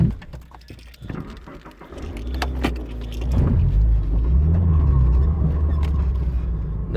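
A Toyota GT86 is driven fast on the Nürburgring, with interior rattles and clicks at first giving way to a loud, rising engine drone that builds and holds steady.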